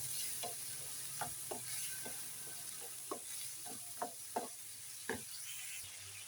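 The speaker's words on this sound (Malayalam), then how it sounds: "നല്ലോണം മിക്സ് ചെയ്യുക." A spoon stirs and mixes salted food in a frying pan, faint scrapes and light knocks against the pan at irregular intervals over a quiet, steady sizzle.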